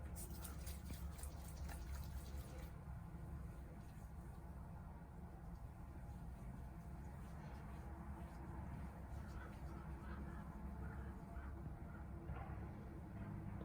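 Running water from a tap gushes steadily and loudly at close range while face cleanser is rinsed off the hands, a continuous broadband splash with no speech over it.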